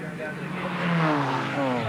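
Production race cars blast along the main straight at Surfers Paradise in a 1987 championship race, engines droning and rising in pitch as they pass, heard under steady commentary.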